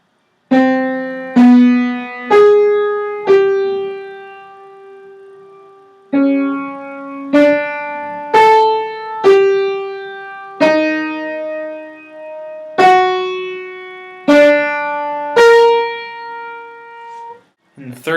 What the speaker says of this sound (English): take his initial row and just play it backwards, which would sound something like this.